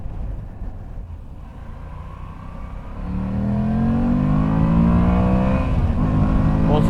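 A Moto Guzzi V85 TT motorcycle engine idles low and steady, then swells after a few seconds into a rising, loud acceleration whose pitch climbs through the gears, close-up with no talking.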